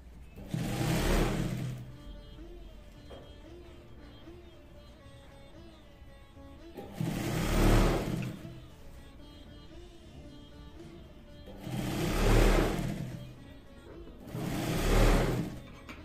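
A sewing machine stitches a zip onto a sustainable utility bag, running in four separate whirring bursts of a second or two each, with quiet pauses between them.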